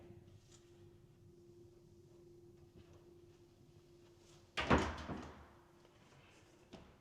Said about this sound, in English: Let's open up every door that we can.